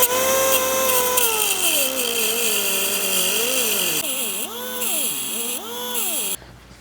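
A power tool, likely an impact driver, works loose badly corroded fasteners on a Honda Dream motorcycle, its motor whining and dropping in pitch under load, then rising and falling in short bursts close up.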